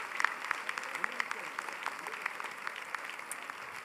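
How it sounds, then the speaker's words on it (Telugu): Audience at an award ceremony claps steadily, a dense patter of many hands that stays even and moderately near, with a voice faintly mixed in. "అద్భుతంగా గట్టిగా గట్టిగా చప్పట్లు కొట్టాలి."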